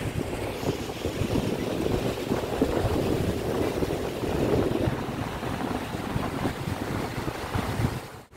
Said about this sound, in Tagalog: Sarap pakinggan sa alon sa guys sa dagat.